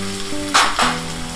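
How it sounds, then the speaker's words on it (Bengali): Chopped green chilli and capsicum sizzle loudly in a hot oiled pan for an aloo paratha filling, a close, steady frying hiss with a couple of brief louder spatters as the pieces go in. "এবার কুচি করে রাখা কাঁচা লঙ্কা আর ক্যাপসিকামটাও আমি ছেড়ে দিলাম।"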